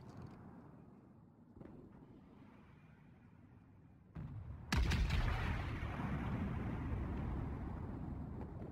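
A German battleship, the King Albert, fires its main guns in the naval game World of Warships. After a low, steady engine rumble, the salvo lands as one sudden, loud boom that rolls on into a long, heavy rumble.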